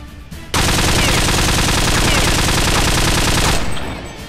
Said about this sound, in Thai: เรามาดูแบบโยกยิงเลยดีกว่ามันจะสร้าง รอยกระสุนได้ประมาณไหนนะครับ